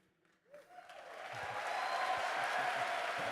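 A live audience at Gamescom Opening Night Live breaks into applause, the clapping swelling from a quiet start into a steady, dense roar that holds to the end.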